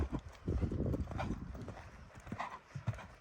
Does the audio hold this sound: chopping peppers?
no